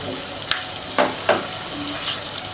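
Bay leaf, cinnamon, cardamom and cloves frying in hot oil give a steady sizzle, close and fairly loud, punctuated by three or four sharp spattering bursts as the whole spices crackle.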